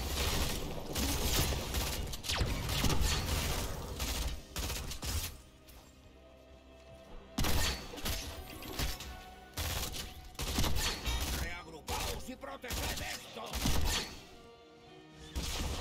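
Rapid bursts of gunfire crack and clatter in clusters, separated by brief lulls, with mechanical clicks and impacts from a loud game battle.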